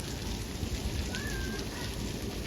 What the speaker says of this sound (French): il pleut un peu moins là, j'ai l'impression